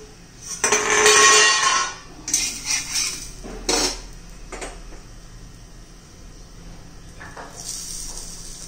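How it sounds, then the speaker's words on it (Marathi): A metal lid lifts off a pan of sprouted green mung and jowar flour thalipeeth, with loud clattering scrapes of metal near the start, then a few lighter knocks and quiet rustles. "आता झाकण काढून घेऊया"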